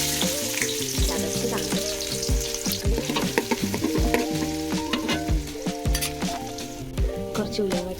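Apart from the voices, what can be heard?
ginger garlic paste frying in pan for chicken curry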